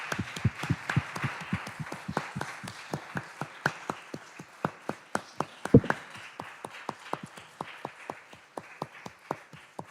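A small audience at the 2023 Battle of the Experts championship trial applauds the winner, with sparse, distinct individual claps ringing out steadily and fairly quietly over ten seconds.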